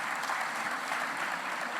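An audience at a museum catalogue presentation claps steadily, a dense, even patter of many hands close by with no voices over it.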